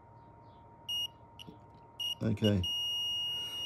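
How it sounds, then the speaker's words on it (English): A multimeter set to continuity mode on a metal detector's wiring gives short electronic beeps, a few brief tones then a longer one, amid quiet handling sounds and a brief spoken word. "Make sure I got my meter in beep range."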